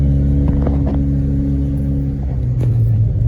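Loud, steady low rumble of an Audi B-series car engine on a short test drive, with a droning tone that rises slightly in pitch near the end as it accelerates.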